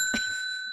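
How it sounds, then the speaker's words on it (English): A single bright bell ding with a sustained ringing tone that lingers briefly, heard alone and fairly faint indoors. "Oh, I hate that bell."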